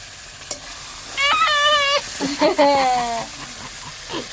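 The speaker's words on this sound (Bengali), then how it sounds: "আলু আর কুমড়ো একটু ভালো করে ভাজা হয়ে গেছে" Potato and pumpkin pieces fry in a pan with a soft, constant sizzle and the scrape of stirring, while people talk over the cooking.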